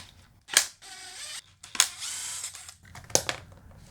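Small mechanical clicks and brief scraping bursts from a Torx T25 driver working screws out of the plastic cover of an older Stihl chainsaw, three sharp transients with quieter rattling between, close and fairly soft.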